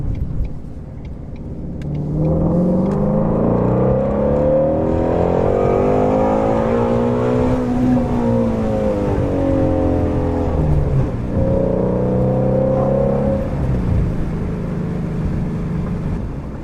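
A Ford Mustang GT350 accelerating hard in second gear, its engine note climbing in a long loud rising rev, easing and then pulling again, a deep close rumble with no talking over it.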